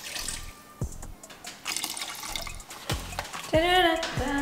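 Water runs from a kitchen tap over cut salmon during meal prep, splashing and trickling in short uneven bursts close by, with clinks and handling noises between the pours.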